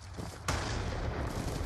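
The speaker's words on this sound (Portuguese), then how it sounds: "Nossa, um tiro." A single sharp gunshot from a video game cracks out partway through, loud against a noisy game background, followed by a lingering rumble.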